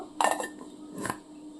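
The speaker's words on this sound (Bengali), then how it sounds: "দেখুন এবার ওপর থেকে একটা ঢাকা দিয়ে দেবো" A metal lid clatters onto a pan holding hilsa fish to be steamed: one loud clanking contact followed by a second lighter clink about a second later, close and clear with no talking.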